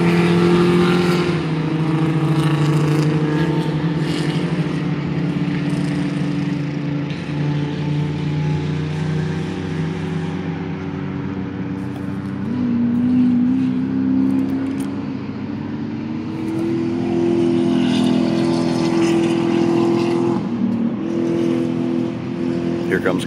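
A Honda Civic race car with a Cessna aircraft wing bolted to its roof runs at a Lemons endurance race, engines droning and revving from trackside as cars pass, with a voice talking over the noise.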